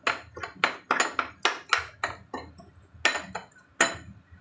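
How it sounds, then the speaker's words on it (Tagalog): A utensil stirs sweet bean sauce with sugar and cooking wine in a dish, giving a run of bright clinks and taps against the bowl, steady and close, with no talking. "So, haluin lang natin ito."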